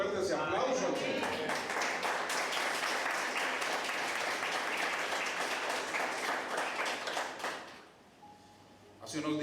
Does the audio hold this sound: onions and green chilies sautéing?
no